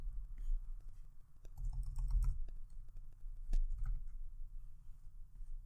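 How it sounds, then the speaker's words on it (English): Someone types a search on a computer keyboard, a quiet, uneven patter of key clicks in short bursts with brief pauses and no talking. "we're going to type in Scarlett Johansson"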